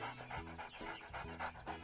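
A small cartoon dog pants in quick, steady rhythmic bursts, close and fairly loud, with breathy huffs repeating throughout and no talking over it.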